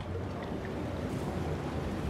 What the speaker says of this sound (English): It fills the water back up.